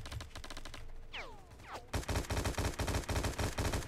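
Automatic gunfire in the shooter game War Inc, a fast rhythmic burst of sharp shots, a short pause with metallic ringing, then another sustained rapid volley, loud and close.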